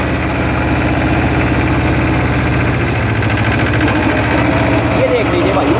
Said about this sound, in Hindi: चाल बढ़ गई ट्रैक्टर की लो के तीसरे में, और लोड अब भी नहीं मान रहा।